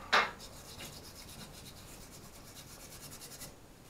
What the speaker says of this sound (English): Takes a little more scrubbing than Safety Clean does, or any of your other